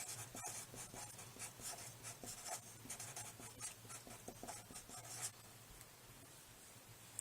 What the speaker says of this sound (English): So I'm going to put an R next to this stanza and write relate.